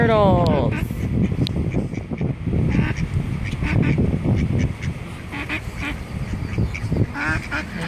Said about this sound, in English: Here comes more ducks.